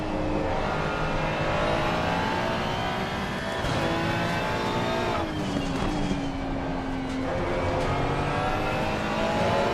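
A Ferrari race car in a racing video game at Spa-Francorchamps roars continuously at high revs, its engine pitch rising and dipping through gear changes, loud and unbroken throughout.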